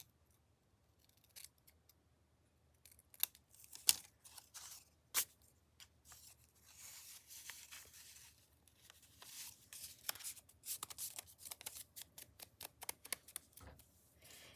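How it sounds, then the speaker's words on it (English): Scissors snip through a junk mail envelope, trimming it even: a scattering of quiet, close crisp cuts and paper rustles that grow busier and more rhythmic toward the end, with no talking. "Just gonna cut it so that it's even, maybe."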